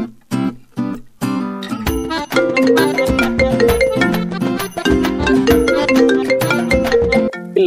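A phone rings with a bright, melodic ringtone, starting with a few separated tones and then playing as a continuous repeating tune, loud and close with no talk over it.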